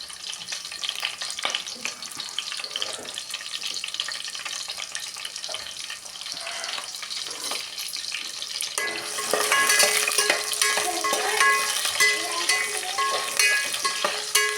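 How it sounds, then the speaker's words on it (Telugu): Onions and green chillies fry in hot oil with a steady, close sizzle that grows louder and denser partway through as stirring adds brief scraping, with no talking. "నూనె అయితే వేడైపోయింది. ఉల్లిపాయ, పచ్చిమిరపకాయలు అయితే వేసుకున్నాను."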